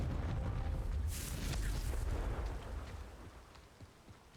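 Confringo fire spell blast in the video game Hogwarts Legacy, a single loud, close explosive boom with a rumbling burst that fades over a few seconds.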